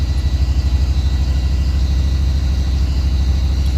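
A Walker T25i riding mower engine idles steadily in a shop while warming up, a close, loud, even low throbbing chug with a constant rhythmic pulse and no talk.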